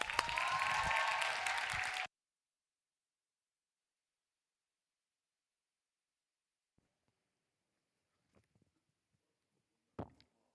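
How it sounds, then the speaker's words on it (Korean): A church youth worship audience applauds to welcome a speaker, a short dense burst of clapping lasting about two seconds before cutting to near silence, with a few faint knocks and a brief thump afterward. "박수로 맞겠습니다"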